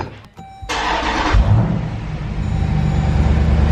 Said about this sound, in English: Alright, now I'm going to start it up.